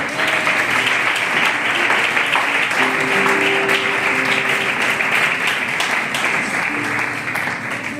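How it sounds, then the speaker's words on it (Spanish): A church congregation breaks into steady, sustained applause that fills the room for the whole stretch, with faint voices murmuring underneath. "Dale un aplauso a la palabra del Señor"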